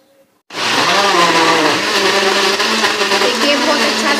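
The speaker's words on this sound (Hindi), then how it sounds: "अब हम इसको ब्लेंड कर।" After half a second of near silence, a blender starts blending a plum and cherry sharbat with ice, water, sugar and salt. It roars loudly and steadily at close range to the end.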